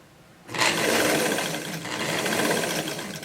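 A sewing machine runs a steady stitching seam along dress fabric close up, starting abruptly after a short quiet moment and whirring continuously to the end.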